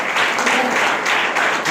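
Sustained clapping from a church congregation, a thick crowd of hands beating together in slightly swelling waves, close and loud throughout.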